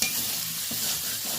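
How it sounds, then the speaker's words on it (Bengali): Lightly fried potato, eggplant and papaya are stirred in a hot pan, giving a steady close sizzle with soft scraping strokes throughout and no voices. "একটু ভালো করে নাড়াচাড়া করে নিচ্ছি।"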